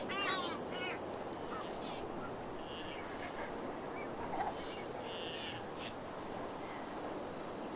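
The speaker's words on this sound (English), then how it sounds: "The din of the birds is a rousing wake-up call for this young Galapagos sea lion" Dense dawn chorus of many birds on Santiago Island in the Galápagos, a steady chattering din with scattered calls rising over it, moderately distant and continuous, with a young sea lion colony resting nearby.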